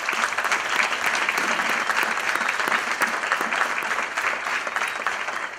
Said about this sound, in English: we're all going to give you a great round of applause for your accomplishments